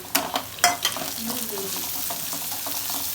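Goat spleen and onions frying in a pan with a steady close sizzle, opened by a few sharp scraping stirs of a spoon before the hiss settles into an even crackle.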